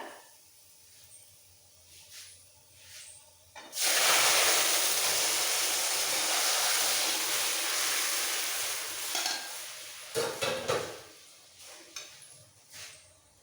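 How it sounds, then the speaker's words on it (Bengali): Boiled lentils poured into garlic frying in hot oil set off a sudden loud sizzle and hiss that fades slowly. Quieter stirring and clatter from the pan come before and after it. "রসুনটা ভাজা হয়ে গেছে দিয়ে দিচ্ছি সেদ্ধ ডালটা"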